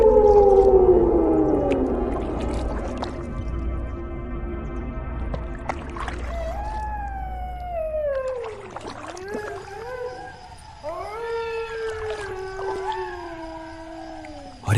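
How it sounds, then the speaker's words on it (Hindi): Jackals howling and wailing at night, several long rising and falling cries that overlap, with a low rumbling background in the first half. "अरे बाप रे, ये सियार कितनी डरावनी आवाज में चिल्ला रहे हैं।"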